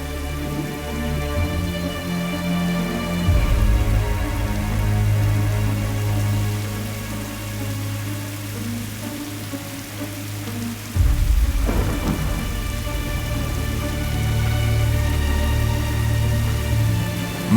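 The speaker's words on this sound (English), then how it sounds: "She held the door open, and I stepped out into the rain." Rain and thunder effect from an audio drama: a steady, loud downpour with two deep rolling thunder rumbles, one early and one about two-thirds through, and no voices.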